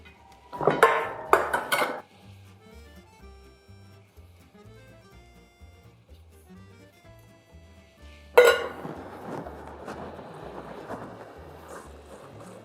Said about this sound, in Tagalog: So just mix them together until they're properly or thoroughly mixed.